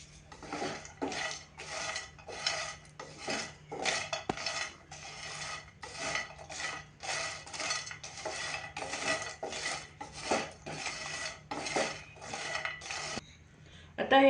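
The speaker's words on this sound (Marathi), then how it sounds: "दालचिनी, जायपत्री, हिरवे वेलदोडे आणि मसाला वेलदोडे, हे सगळं साहित्य आता भाजून घेऊया." Whole cinnamon, mace, green cardamom and black cardamom dry-roasting in a pan, stirred steadily with repeated scraping and rattling strokes in a fairly even rhythm, close and moderately loud, with no talking.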